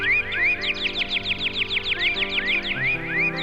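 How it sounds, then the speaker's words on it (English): Sparrows chirping in a small wood, a rapid repeated string of bright, rising chirps over a steady tonal background, loud and close with no talk. "They are so noisy, but are so cheerful, chirping all day long."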